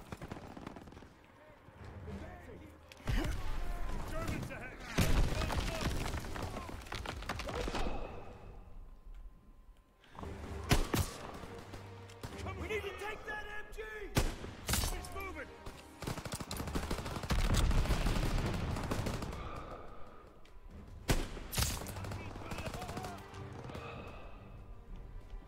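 Gunfire in the Call of Duty: WWII video game: loud bursts of rifle and machine-gun fire come in clusters, separated by quieter stretches of battle noise, with voices talking in between.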